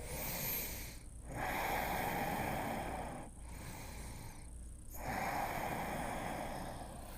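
Slow, deep breathing held through a yoga pose in a hips-and-hamstrings class for runners, with three long, steady breath cycles separated by brief pauses, close and fairly loud, with no talking.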